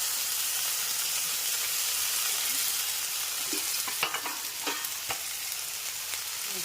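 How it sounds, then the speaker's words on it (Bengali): Potatoes frying in a pan for a kundru (ivy gourd) sabji: a continuous hissing sizzle, then a series of distinct scrapes and clacks as they are stirred in the second half. No voices. "ভাজা হয়ে গেলে তারপরে আলুগুলো দিলাম।"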